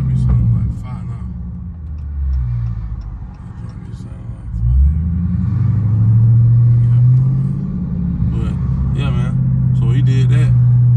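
A Dodge Charger Scat Pack with a loud exhaust drives along on a snowy bridge, a deep droning rumble that swells as the car accelerates, with a driver talking over it.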